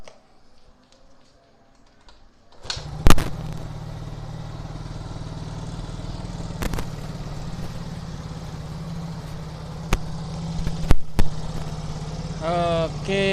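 A car engine cranks and catches, then settles into a steady low idle during a manual ISC sensor reset, with a few sharp clicks and a brief voice near the end.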